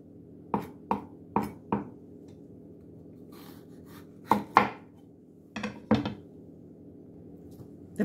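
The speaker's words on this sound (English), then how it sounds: "The pepper was the last of the chopped ingredients" Knife chopping bell pepper on a cutting board that slides about, heard as close, crisp thuds in short uneven bursts of two to four strikes separated by pauses.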